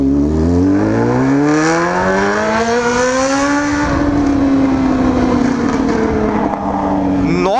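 Honda Hornet motorcycle with a modified exhaust accelerating hard, a loud close engine note climbing steadily through rising pitch before leveling off at high revs, with wind noise over it.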